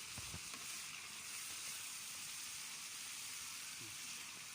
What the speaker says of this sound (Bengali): ঢাকনা উঠিয়ে আমি আবার নাড়াচাড়া করে দিচ্ছি।